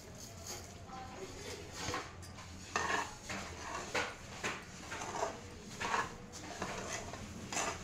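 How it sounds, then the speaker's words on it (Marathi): Roasted sesame seeds being stirred into melted jaggery in a pan for til ladoo, giving repeated scraping and clinking strokes of a spoon against the metal pan at a steady rhythm, moderately close, with no talk. "हे बघा चांगलं मिक्स करून घ्यायचं आणि गॅस बंद करायचा।"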